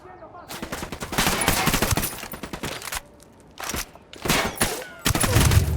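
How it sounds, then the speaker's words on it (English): Rapid bursts of automatic gunfire from Ghost Recon Wildlands, loud and close, coming in several long volleys separated by brief pauses. "Opening fire on these fuckers."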